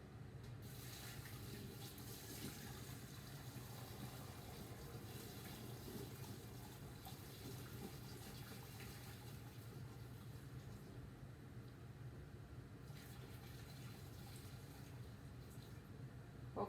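Maple syrup pours steadily through a sealed filter pad into a strainer, a faint, continuous liquid rush and trickle holding even for the whole stretch with no talking.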